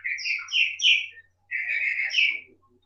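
A small bird chirps in two quick bursts of bright, high twittering notes, close and clear, separated by a brief pause against a silent background.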